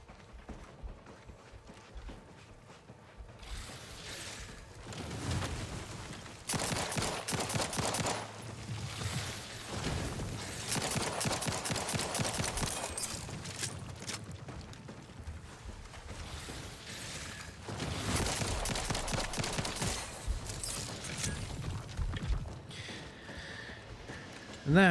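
Rapid weapon fire in The Outer Worlds 2 comes in several long bursts of fast, crackling shots separated by quieter stretches, with a player's voice heard at times.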